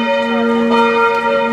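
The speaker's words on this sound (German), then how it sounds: "Für euch läuten die Glocken." Church bells ring at the finish line of the Bad Vilbel Quellenhalbmarathon half marathon in 2015, a steady, sustained loud peal with long humming overtones that fills the whole moment.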